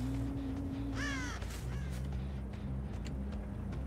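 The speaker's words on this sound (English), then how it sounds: "Oh, that's just the crows. That makes so much noise." Crows in the Dead by Daylight horror game give several harsh caws in quick succession over a low droning ambient hum, loud and close.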